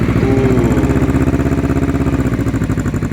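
A 2012 Kawasaki Ninja 250R, a 250cc twin-cylinder motorcycle, runs with the choke on just after a cold start, a steady close, loud engine throb with a fast rhythmic pulse throughout.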